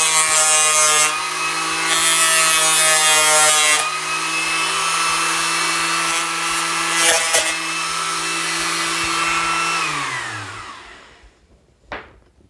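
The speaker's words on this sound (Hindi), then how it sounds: "सबसे पहले कार्डबोर्ड काट कर देखेंगे" A high-RPM paper cutting disc spun on a power tool slices through cardboard, giving a loud, steady, high-pitched whine with rough cutting bursts, then winding down in pitch as the disc slows and stops, with a final thump.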